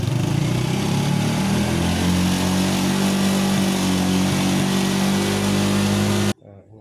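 A car engine idling steadily during a fuel injection system test in a workshop, a loud, even mid-pitched hum with a faint voice underneath, ending abruptly.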